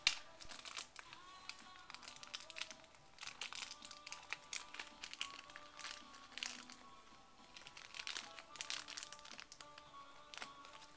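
Plastic packaging holding little toy rats is torn and crinkled open in a run of sharp crackles and crunches, with irregular bursts of rustling and music playing faintly underneath.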